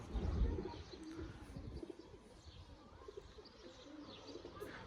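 Soft pigeon coos rise and fall at close range over a low rumbling, noisy background, with a few faint chirps scattered throughout.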